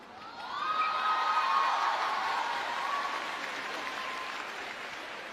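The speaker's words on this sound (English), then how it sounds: "I also hope that some of those applause are directed at Patrick Franziska." An audience at a table tennis match applauds, swelling quickly into sustained clapping with a few cheers and whoops, then slowly thinning out.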